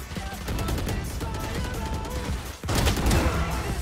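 Judge shotgun fired in a video game match, a dense clatter of shots and gunfire, loud and continuous, with a sharper blast near the end.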